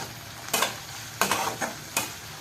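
Tomato and onion sautéing in a pan for egg bhurji: a low sizzle under three distinct scraping stirs spaced about evenly apart, close and with no voices.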